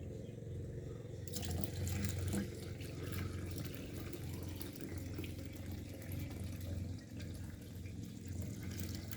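Water from a tap filling a cooking pot with one liter for boiling coconut in a Samoan kitchen, a steady faint running and splashing stream that continues throughout with a low hum underneath.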